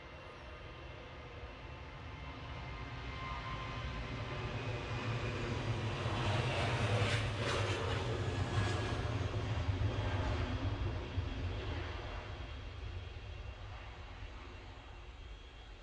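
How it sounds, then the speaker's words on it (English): Jet airliner departing Edinburgh Airport, a broad engine roar swelling from a distant rumble to a loud peak midway, then slowly fading as the plane climbs away; no talk over it. "There are 4 planes to leave."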